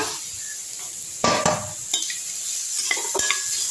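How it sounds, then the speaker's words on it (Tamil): Grated beetroot stirred into sautéed onions in a pan, with a sharp clatter as it goes in, then scraping stirs and light clinks over a faint sizzle. "இப்போது இந்த துருவி வச்ச பீட்ரூட் எடுத்துல போட்டுங்க."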